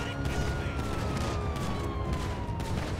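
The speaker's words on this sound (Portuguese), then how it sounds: "tô escutando tiro" Distant police gunfire in the video game GTA V, a dense run of muffled shots under a steady wash of noise with a faint siren tone gliding downward.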